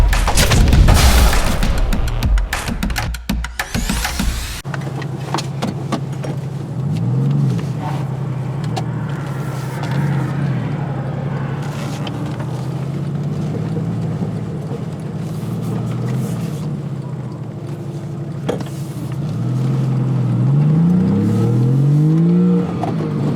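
A Porsche Boxster/Cayman fitted with a Numeric Racing shifter and cables is driven up through the gears from first to sixth. The engine drones steadily inside the cabin, and its pitch rises and drops again at each shift.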